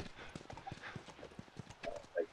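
Horse hooves clip-clopping in The Last of Us video game, a quick, even patter of hoofbeats over about two seconds with voices murmuring faintly underneath.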